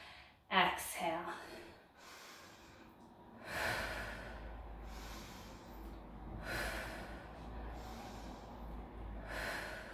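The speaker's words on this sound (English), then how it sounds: "You can link that breath with the movement. Inhale, exhale." Repeated breaths drawn in and pushed out during a strength workout, audible as several soft, airy gusts with a sharper snort-like breath early on, spaced a few seconds apart over low background noise.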